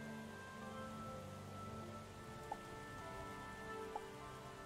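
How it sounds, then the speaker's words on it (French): Steady rain falling in the video game Starbound, a constant soft hiss of drops with a faint hum beneath and a couple of small drip taps, even and continuous throughout. "on peut profiter de la pluie"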